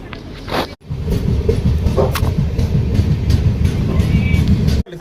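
The Kachiguda to Ashokapuram superfast express stands at Kurnool City railway station, giving a loud, continuous low rumble and clatter of train and platform noise, broken by two brief dropouts, with faint voices mixed in.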